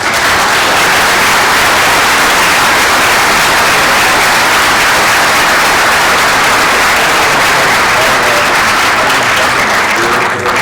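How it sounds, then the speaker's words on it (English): A conference audience gives a panel a big round of applause: dense, steady clapping from many hands, loud and close, sustained for about ten seconds with hardly any voices. "if we can give a big round of applause for the panel"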